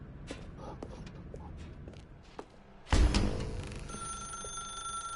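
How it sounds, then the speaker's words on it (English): In the video game The Stanley Parable, a telephone bell starts ringing abruptly with a loud, sustained metallic ring that follows quieter clicks and footsteps. "Now pick up the phone."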